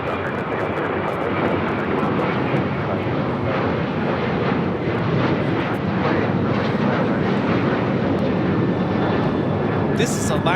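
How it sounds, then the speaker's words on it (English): An Alaska Airlines Boeing 737-900ER takes off at Los Angeles International Airport with a loud, sustained jet roar that holds steady throughout, broad and powerful, while people talk over it. "This is Alaska Airlines 1363 taking off to Zihuatanejo on a 737-900ER"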